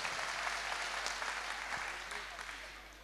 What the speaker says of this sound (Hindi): जोरदार तालियां बजाइए एक बार।